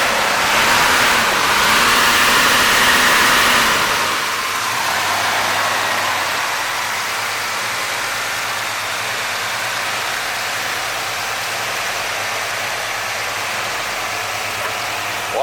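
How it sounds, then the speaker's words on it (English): A 1971 Dodge Charger R/T with a 440 Six Pack V8 revs loudly, its engine roaring up for a few seconds, then drops back to a low, steady burbling idle heard close by. "So rev that up a little bit."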